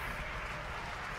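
Crowd at a Cape Canaveral rocket launch, a continuous far-off wash of cheering and applause, even and unbroken.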